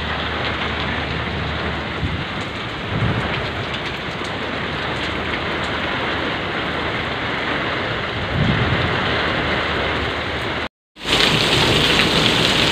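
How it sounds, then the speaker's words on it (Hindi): Heavy monsoon rain pouring down during a storm with lights out, a dense loud continuous roar with brief low rumbles of thunder, briefly cutting out near the end before resuming just as strong. "बारिश की तेज़ हो रही है ना"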